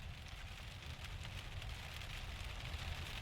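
Rain falls steadily over a field with cows in the hills of south-eastern San Diego, a soft continuous patter with no voices.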